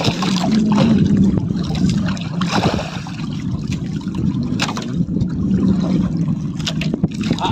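An approaching boat's motor drones steadily on the water, with wind and splashing around it and a low hum that persists throughout.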